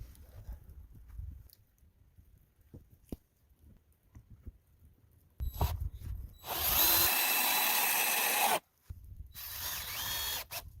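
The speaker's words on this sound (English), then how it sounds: "Sturdy wooden posts and deck beams are being precisely installed with a drill to strengthen the porch structure" A power drill drives fasteners into wooden porch posts and deck beams at an off-grid log cabin build, bursts of loud whirring after quieter knocks and handling noises, with a short pause between two long drill runs.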